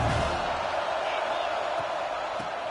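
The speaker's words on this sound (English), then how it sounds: "Listen to the crowd energy here in the early going." A stadium crowd at a football playoff game gives off a dense, continuous roar of distant noise that stays steady throughout, with no distinct cheers or talk standing out.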